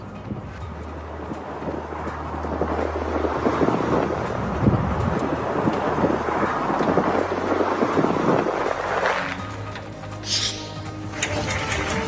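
Strong, continuous sandstorm wind roars and gusts across the microphone, a dense rushing blast that swells and buffets without pause.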